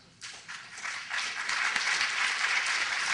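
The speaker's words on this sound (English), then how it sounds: "All of you who are clapping" An audience at a talk breaks into clapping: it starts from near silence, builds quickly into a full, continuous round of applause and holds steady at a moderate level.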